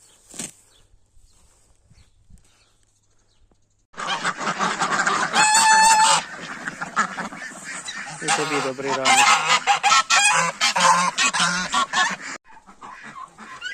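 After a short quiet spoken greeting, a loud chorus of geese honking and chickens clucking breaks out close by in a village poultry yard and continues noisily.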